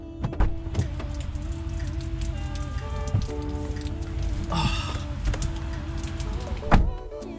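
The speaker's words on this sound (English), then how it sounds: "What a cold, dreary, and otherwise rainy day." Steady rain on a cold, dreary day patters on a hard surface close by, with a few louder drips and knocks standing out against the constant wash.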